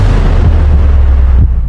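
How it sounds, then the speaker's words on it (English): One heavy gunshot booms and then rolls into a deep, rumbling tail that cuts off abruptly. The sound is loud and close, with no voices. "The third shot was the final one, striking Kennedy directly in the head."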